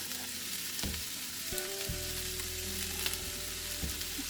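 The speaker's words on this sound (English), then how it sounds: "we're just going to let that saute for 2 to 3 minutes here" Red and green peppers, onions, mushrooms and garlic sauté in a pot for homemade spaghetti sauce, a soft steady sizzle with a few utensil scrapes and a low background hum.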